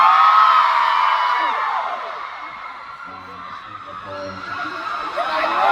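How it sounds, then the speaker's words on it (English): Concert crowd at a show in Singapore screaming and cheering together, a dense continuous roar of many high voices that dips slightly midway and swells again near the end. "Okay, everyone scream!"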